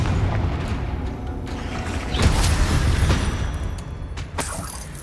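A Confringo fire-blast spell in Hogwarts Legacy fighting spiders: loud booming bursts around 2.2 and 4.3 seconds over rumbling battle noise.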